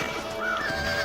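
A horse in the video game Red Dead Redemption gives a short, close whinny, a single clear neigh heard alone over a low background.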